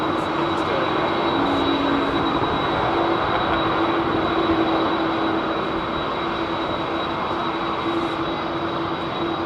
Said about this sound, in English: Listen to those old CF6s